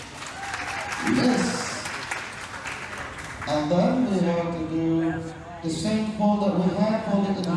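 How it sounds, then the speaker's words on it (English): An audience applauding at a towel-animal folding demonstration aboard the cruise ship Radiance of the Seas: a moderate burst of clapping that continues beneath someone speaking over it. "Can I get a round of applause, please?"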